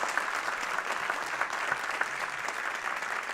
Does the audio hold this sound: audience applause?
yes